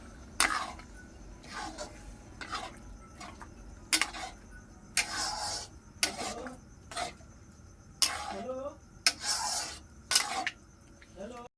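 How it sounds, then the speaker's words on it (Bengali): A spoon stirs food in a cooking pot in a series of short, scraping rubs with brief pauses between, close and fairly quiet, with no speech. "ভালোভাবে নেড়ে নেব।"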